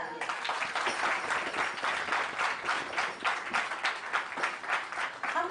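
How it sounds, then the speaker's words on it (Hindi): A church meeting congregation gives loud, sustained applause for the teams, with many hands clapping in a dense, fluttering wash that stays steady throughout. "इनके लिए भी जोरदार तालियां"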